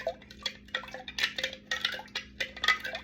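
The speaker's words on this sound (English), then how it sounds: "I just would take my spoon and I would just stir that in" A spoon stirs a mixture in a kitchen while cherry tomatoes are prepared, giving quick, close, irregular clinks and scrapes against the container with no speech.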